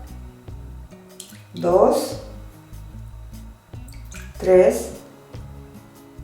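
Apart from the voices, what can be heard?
spoonfuls of water being added to a bowl for palmeras dough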